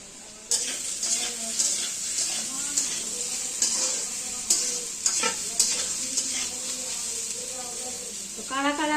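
Potatoes with their skins on frying in a pan, a steady sizzling hiss with scraping stirs and occasional clinks of utensils against the pot, close by, with people talking over it.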